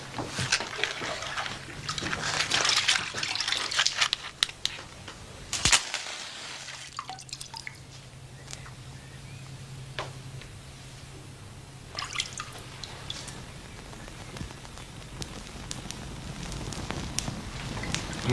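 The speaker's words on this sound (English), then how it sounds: "will you sprinkle it with water?" Water is sprinkled onto burning straw, making a crackling, hissing spatter that runs for several seconds before settling into a softer fizz with scattered drips.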